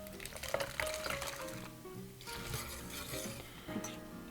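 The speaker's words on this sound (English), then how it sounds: "And then we're going to stir them together." Oatmeal and a vinegar mixture are stirred together in a bowl, giving soft, irregular wet scraping and sloshing sounds, close and fairly quiet.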